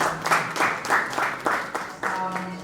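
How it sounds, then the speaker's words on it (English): Audience applause at a book release soirée, a steady run of clapping from a modest crowd with pulsing bursts and a voice speaking over it. "Please a round of applause for him."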